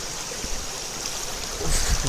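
A waterfall at a scenic outdoor spot in Rayagada, Odisha, gives a steady, close rush of falling and running water with no speech, swelling slightly louder toward the end.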